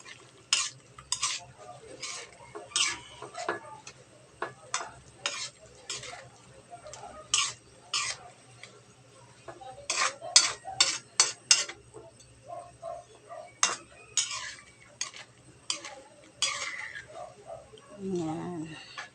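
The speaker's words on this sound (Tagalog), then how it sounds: "Tapos, halo-halo na natin hanggang sa ma-dissolve yung brown sugar." A spoon stirs brown sugar into cooking shrimp paste, making repeated sharp scraping clinks against the pan in an uneven rhythm, close up and fairly faint, with a low hum underneath.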